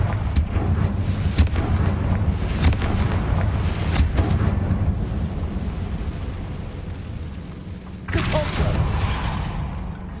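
Repeated Confringo fire spell blasts in Hogwarts Legacy, a dense rumbling run of booming explosions over the first five seconds, then a quieter stretch and a fresh loud burst near the end.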